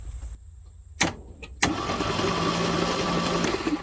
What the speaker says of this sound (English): I'm curious to see if the key in there will start the truck or, you know, turn it over